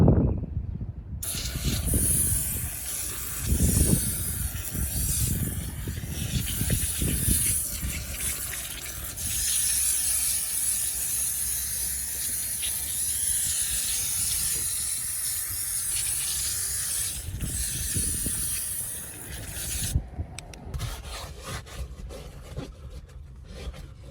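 Meguiar's carpet cleaner sprayed and worked into car seats gives a long, continuous hiss with rubbing and scrubbing strokes throughout, close and fairly loud, with no talk.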